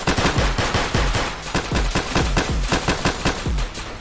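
Rapid bursts of automatic fire from a TEC-9 with a drum magazine in a South Bronx street-crime video game, loud and close, the shots rattling in quick repeated volleys across the whole stretch.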